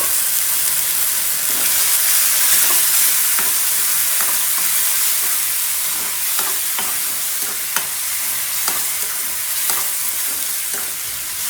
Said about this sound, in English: At this stage, we will add our tomato puree.